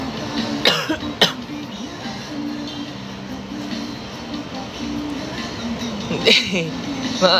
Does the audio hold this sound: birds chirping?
no